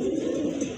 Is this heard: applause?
no